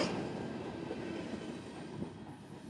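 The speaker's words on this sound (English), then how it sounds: "The tail end of our train today. Q648, northbound from Madisonville, Kentucky." The tail end of northbound CSX freight train Q648 rolls past at Madisonville, Kentucky, a steady loud rumble of wagons and wheels with no talk.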